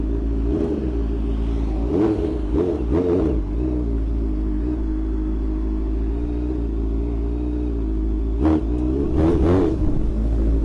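A Honda CBR650F motorcycle engine rumbles steadily at idle, with a few sharp throttle blips and revs rising and falling, close and loud with no talking.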